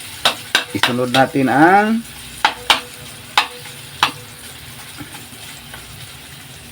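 Chopped onion sautéing in a pan for lomi gives a soft, steady sizzle under sharp metal clinks of a utensil scraping and tapping the pan, while someone speaks briefly over it.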